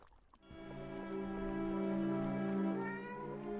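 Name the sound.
cat meowing in video game The Dark Rites of Arkham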